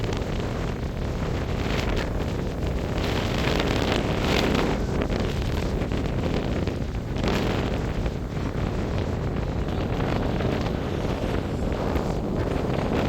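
Strong storm wind blasting across a microphone on a mountainside in the Belledonne massif during a thunderstorm, a steady loud roar with gusting swells throughout and no talk.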